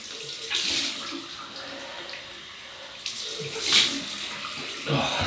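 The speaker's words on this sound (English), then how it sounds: "So cold water rinse." Cold tap water runs into a sink for a face rinse during a wet shave, a steady splashing flow with a few louder gushes and splashes from hands in the water.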